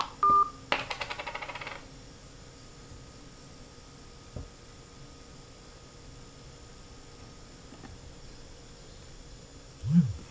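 Telephone keypad tones pressed during a call to an automated phone menu, a quick string of short beeps near the start followed by a quiet line with faint clicks.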